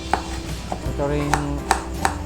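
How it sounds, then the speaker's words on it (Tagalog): Knife slicing onion into small pieces on a board for fresh pancit, several crisp separate chops spaced out over a steady low background hum. "onion. Slice natin ng maliliit"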